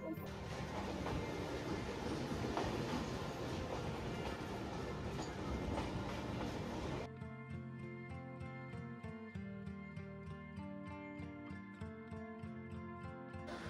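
The Saraighat Express passenger train rolls along the rails, a loud, steady rumble that turns into a rhythmic clickety-clack of wheels over rail joints in the second half.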